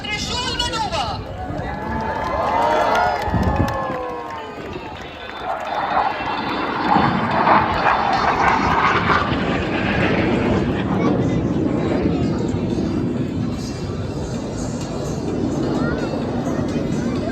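Suryakiran display aircraft fly the Trishul maneuver at an airshow, jet engines roaring and sweeping past overhead in loud surges, with crowd noise and voices in the background throughout.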